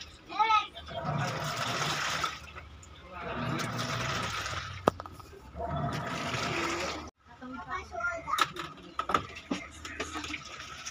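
A Sharp automatic washing machine drains its water in repeated surging gushes, splashing and trickling in several bursts with mechanical noise between, fairly faint overall.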